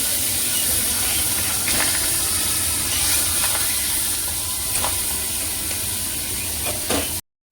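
Doi katla, fish in a yogurt curry, simmering in a pan: a steady soft hiss and sizzle with faint stirring taps, close by, stopping abruptly at the end.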